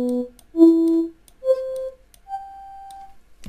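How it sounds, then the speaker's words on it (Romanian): Short synthetic tones from an FM frequency synthesizer virtual instrument in Cubase LE 4, four clean sustained notes at rising pitches played one after another, each a pure steady tone with faint overtones, alone with no talking. "care nu este altceva decât un sintetizator de frecvență FM."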